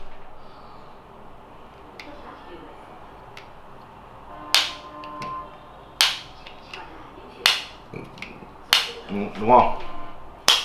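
AirPods 2 charging case lids snapping shut one after another, a handful of sharp, crisp clicks spaced a second or two apart over a low room background, with someone talking between them.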